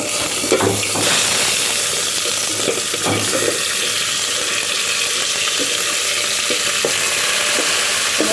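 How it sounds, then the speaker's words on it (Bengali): Fenugreek seeds and onion fry in hot oil over a strong fire for duck curry, a loud, steady sizzle with a few soft clacks of stirring near the pan. "এইবার কিছু মেথি দিয়ে দিচ্ছি পেঁয়াজটা যেন না পুড়ে"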